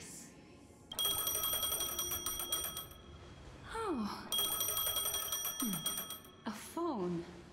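A phone rings in Honkai: Star Rail: two long, loud electronic ringing bursts with a short gap between them, close and bright. A voice speaks briefly over the rings with short gliding exclamations.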